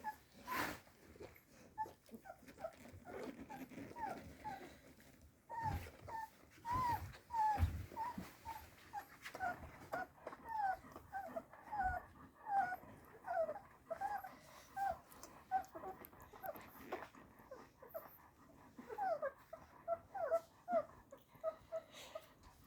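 An 18-day-old puppy making small whimpers and soft growls, a string of high, thin whines that come in short repeated bursts, close by and quiet, with faint low grumbles between them and no human voices.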